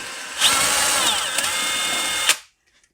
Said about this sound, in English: So I'm just going to gently drill through this.